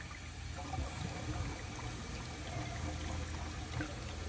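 A blue 1963 American Standard Cadet toilet flushes weakly without swirling, giving a steady low watery rush and trickle that holds at an even level throughout, close by with no voices.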